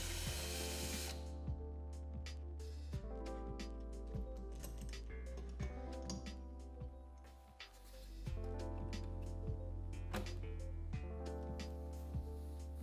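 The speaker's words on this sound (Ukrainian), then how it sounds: "фреза приводиться в дію за допомогою дрилі спеціальною насадкою" A power drill drives a router bit in a jig, whirring steadily for several seconds, its motor pitch dipping briefly midway, with sharp ticking clicks of the bit cutting into material throughout.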